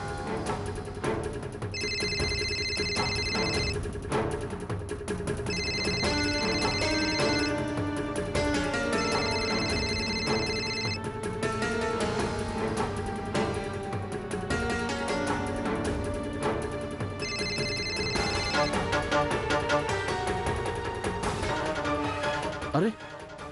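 A landline-style telephone rings in repeated bursts and goes unanswered, the tones sounding over a continuous music bed in a Telugu TV serial domestic scene, with pauses between the ring cycles.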